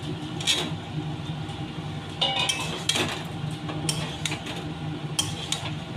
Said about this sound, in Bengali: এবার ভেজে রাখা আলু আর সজনে ডাঁটা দিয়ে দিচ্ছি।